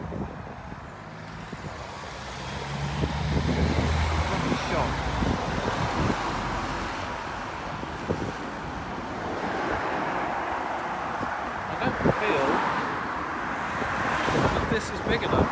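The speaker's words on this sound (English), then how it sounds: "the cars are moving already" Cars and trucks pass a pedestrian crossing outside a school in Surrey, with steady road rumble and swishing tyres. Wind buffets the microphone, and the traffic swells and fades through the whole stretch.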